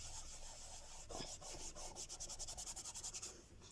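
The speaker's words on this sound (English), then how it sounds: "and then just wipe over that a little bit" Rubbing and wiping strokes over a homemade black soot archival ink pad, a soft scuffing that builds into a quick run of rhythmic back-and-forth swipes near the end, close and fairly quiet with no talking.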